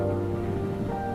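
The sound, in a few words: rain falling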